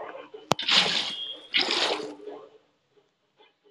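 Water placed from a bucket in Minecraft: a sharp click, then two loud, close splashing pours in quick succession, followed by near silence.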